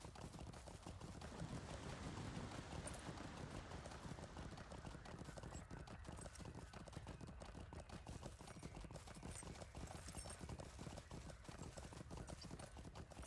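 Horse hooves clip-clop steadily while riding in the LOTRO (Lord of the Rings Online) video game, a continuous rhythmic trotting at moderate loudness with a faint game ambience behind it and no talk.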